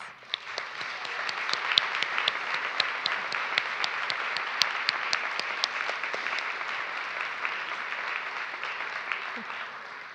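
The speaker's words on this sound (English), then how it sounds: "Please join me with an applause to show our appreciation for those people who stood beside us." Sustained audience applause at a college campus convocation ceremony, a dense wash of many hands clapping steadily for about ten seconds with no pauses, filling a large hall.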